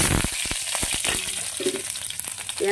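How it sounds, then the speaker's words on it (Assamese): Chopped onions hit hot oil in a kerahi wok, bursting into a loud, close, steady sizzle with crackling spatters that continues without a break. "এয়া তেল গৰম হৈছে, আৰু ইয়াতে দি দিম এতিয়া এয়া পিঁয়াজ"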